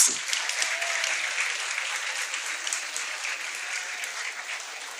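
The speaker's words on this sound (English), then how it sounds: "round of applause." Steady applause from an audience at a school felicitation ceremony honouring Class X achievers, a dense even wash of clapping that sustains throughout and tapers slightly at the end, with no talking over it.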